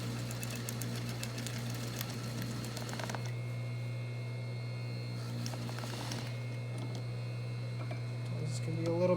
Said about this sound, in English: Start sewing, back stitch.